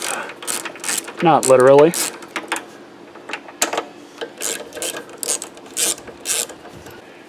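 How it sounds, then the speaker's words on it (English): A ratchet wrench clicks rapidly while breaking carburetor bolts loose on a Yard Machine lawn mower, in short bursts of sharp close ratcheting spread through the quiet workshop, with a brief spoken phrase. "So we'll go ahead and break these bolts off."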